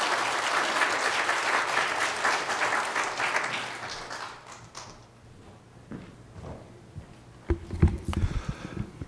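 A church congregation at an Illinois Baptist revival meeting applauds loudly for about four seconds before the clapping fades out, followed by scattered knocks and shuffling footsteps nearby.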